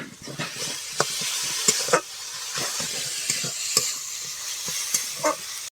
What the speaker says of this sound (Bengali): এখন দেব টমেটো কুচি দেবো একটু লবণ অল্প করে দেব টমেটোটা যাতে তাড়াতাড়ি নরম হয়ে যায়